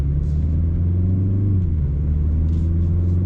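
Inside a 2021 BMW 330i, the four-cylinder engine accelerates, a loud, steady low drone with rising and falling harmonics, close and continuous, with no one speaking.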